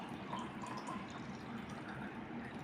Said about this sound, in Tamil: ஸோ ஃபர்ஸ்ட்டு தண்ணி எடுத்து இங்கே ஊற்றணும்.